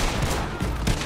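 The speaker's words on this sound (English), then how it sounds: "You shoot the lock." Gunfire at a lock in the video game Red Dead Redemption 2: a quick burst of two or three loud, close shots over dense game noise.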